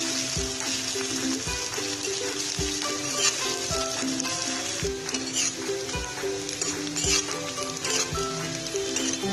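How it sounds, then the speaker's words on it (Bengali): Onions frying in a pan until deep brown for potato vorta, a constant crackling sizzle with occasional clinks, heard under louder background music with a steady, regular beat. "আমি ভাজতে থাকবো কারণ আমার কড়া বাদামি দরকার।"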